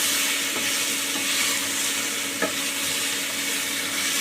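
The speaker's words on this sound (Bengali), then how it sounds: "এই জলটা যতক্ষণ না শুকোবে বন্ধুরা, ততক্ষণ আমরা নাড়তে থাকবো।" Mixed vegetable curry sizzles steadily in a pan over medium heat while it is stirred, a close, continuous frying hiss with faint scraping from the stirring and no talking.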